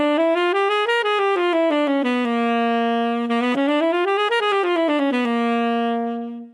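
A half-whole octatonic diminished dominant scale is played as a clean sustained melodic line that climbs and descends stepwise through an octave several times, with no talking.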